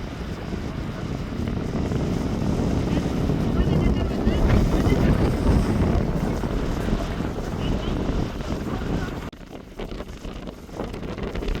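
Strong wind roars across the open shore of Vatadahosahalli lake, a steady dense buffeting that peaks midway and briefly eases near the end.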